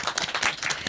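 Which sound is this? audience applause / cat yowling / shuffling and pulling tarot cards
audience applause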